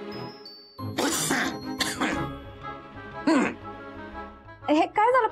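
Someone in a Marathi TV drama scene coughs in a few sharp, close bursts, mixed in with other people talking.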